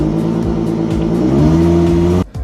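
A 2013 Ford Mustang with a 305-horsepower engine roars loudly as it accelerates hard from a standstill. Its steady, rising engine note climbs through the gears, then cuts off abruptly near the end with a short gap before the engine sound returns.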